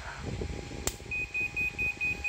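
A 500 W inverter's buzzer after a short-circuit test with a cut cable and E11 error code, a series of faint, evenly spaced electronic beeps starting after a brief click, over low room noise.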